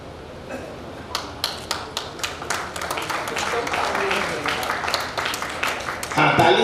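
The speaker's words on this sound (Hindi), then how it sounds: "हाँ तालियां" Applause at a ceremony honoring contributors to arts and culture, starting as scattered individual claps that build into a fuller round, with a brief louder burst near the end.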